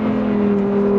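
A Lamborghini Huracan STO engine holds a loud, steady revving drone with a strong, even tone, close and uninterrupted for about a second.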